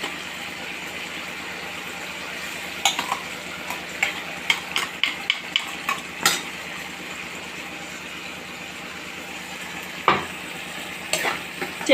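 A spoon scrapes and clinks in a pan as chili powder and spices fry, faint sizzling underneath with irregular stirring knocks spread across the stretch, no one speaking.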